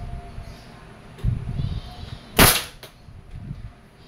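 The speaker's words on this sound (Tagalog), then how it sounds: "Okay, so ngayon itetest natin kung ilang EPS po itong Beretta EPX. Okay, testing." A single sharp crack from an Umarex Beretta APX airgun firing a shot, loud and close, standing out against a quiet background with faint low rustling before and after.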